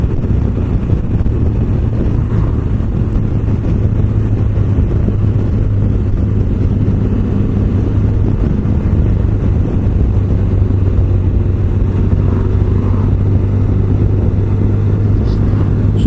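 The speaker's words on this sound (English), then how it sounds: "one car coming right round there to the right" A car on an open road, engine rumble steady and fairly loud throughout with low-end wind buffeting, a continuous vehicle drone rather than a distinct pass-by.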